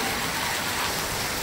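A heavy monsoon downpour hisses and patters steadily nearby, a dense, unbroken wash of rain on surfaces with no voices.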